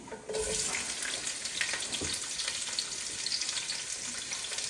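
Thick chopped onion hits a hot pan with a sudden loud sizzle, then settles into steady, close frying crackle that continues without pause.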